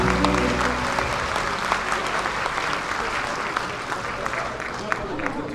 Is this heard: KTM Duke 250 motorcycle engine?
no